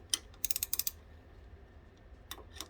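Ratcheting 10mm wrench tightening a lever bolt on a 2021 Aprilia RS660 motorcycle: a brief click, then a quick run of about six sharp ratchet clicks, quiet pause, and two more clicks near the end.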